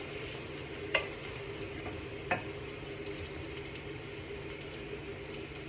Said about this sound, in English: So then we're just gonna let this garlic cook a little longer.